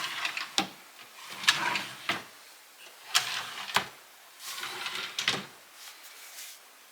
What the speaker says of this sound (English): that's how simple it is to take in and out the drawer.